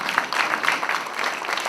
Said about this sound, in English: Give a round of applause to Zambia